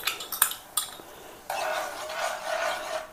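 Soaked Cassia fistula pods go into a simmering pot: several sharp metallic clinks and clatters of utensils against the pot, then a steady, close bubbling hiss.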